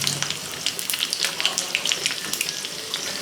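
Mustard seeds, cumin, crushed garlic and asafoetida crackle in hot oil for a tempering for red chilli dal, giving dense, continuous close sizzling with sharp popping spatters, with no voices.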